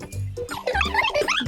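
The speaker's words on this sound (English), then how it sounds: "That's a dog barking." A dog barking in a children's animal lesson: a few close, loud, rough barks in quick succession.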